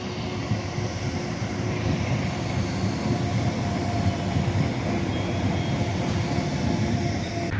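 A train rumbles past steadily on an East London railway line near Bow, a loud continuous roar of wheels and rail noise with no pauses.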